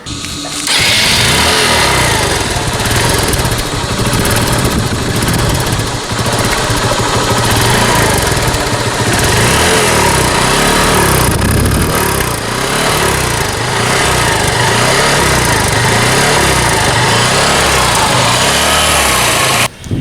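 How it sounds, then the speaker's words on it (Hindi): A used motorcycle engine idling with its exhaust running, a loud, steady, buzzing putter close by that continues without a break and with no talk over it. "वो पूरी तरह आप वो इंजन का साउंड सुनिए"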